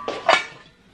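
Pots and pans clatter as two huge pans are handled while cooking in a home kitchen: two sharp metallic clinks close together, then a fading ring into quiet.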